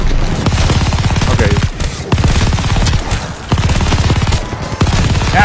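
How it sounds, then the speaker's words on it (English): Rapid automatic gunfire in the Call of Duty Vanguard zombies mode, loud and near, sustained bursts of tightly spaced shots with short gaps between strings. "I'm shooting down the middle."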